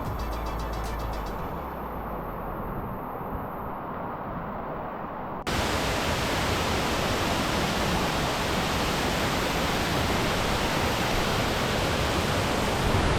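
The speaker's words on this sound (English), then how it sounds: "This is one of the most beautiful waterfalls here in the Gran Sabana" A powerful waterfall in the Gran Sabana, Venezuela, roars as a loud, continuous broadband rush of falling water that swells louder partway through as it comes closer, with no voices over it.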